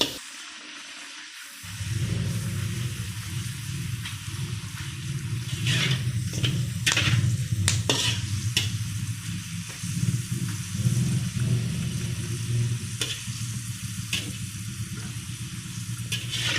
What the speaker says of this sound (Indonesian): setelah minyak sudah panas, kita masukkan selondoknya seperti ini